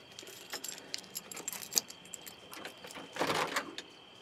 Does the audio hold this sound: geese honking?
no